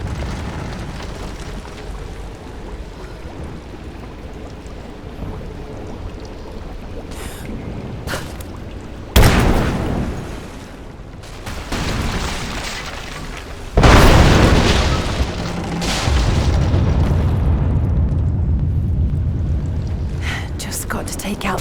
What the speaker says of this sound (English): Looks like I'll have to use the Greek fire.